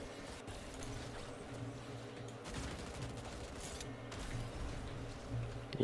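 Video game gunfire and grenade blasts, faint and distant, in sharp irregular bursts with low thuds over a steady background hum, no speech.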